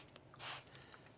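A spray bottle gives one short, soft hiss as it mists water onto a paper towel laid over drying clay, standing alone against a quiet background.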